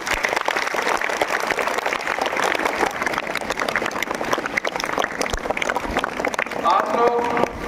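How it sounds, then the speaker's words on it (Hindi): Students in a school hall clap loudly for a best class of the week award, a dense, continuous patter of many hands that carries on throughout. "मैं चाहता हूं कि तमाम तलबा और तालिबात एक मरतबा जोरदार तालियां बजाएं।"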